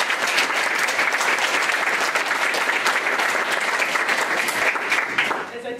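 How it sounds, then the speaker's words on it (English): An audience at a university moot court tournament applauds both competing teams, steady and dense clapping from a full room that holds at an even level and then cuts off. "I think both teams deserve a whole bunch of applause"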